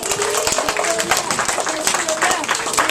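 Classroom of children clapping for a teacher at a reading celebration, a dense, steady patter of many small hands close by, with voices chattering over it throughout.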